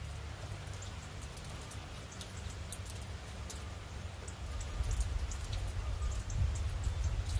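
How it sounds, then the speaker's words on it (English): Light, misty rain falls during a windy fishing outing, a steady soft hiss of drops over a low, gusting wind rumble that grows slightly stronger toward the end. "Very light, misty type rain."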